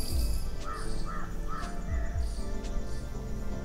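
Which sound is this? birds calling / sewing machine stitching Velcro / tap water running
birds calling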